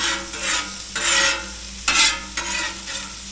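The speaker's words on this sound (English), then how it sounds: "I'm going to throw a little butter down here, and I'm going to throw the buns on" Butter and buns sizzling on a flat griddle while cheesesteak is cooked, a loud close hiss that rises and falls in several surges, with the spatula working now and then and no voices.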